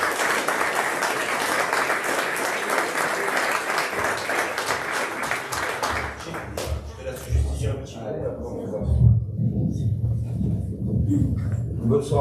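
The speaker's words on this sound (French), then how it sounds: "Je voudrais juste qu'on les applaudisse" Dense applause from a crowd at a press conference fills the first several seconds, then thins out and fades into low murmuring and rumble.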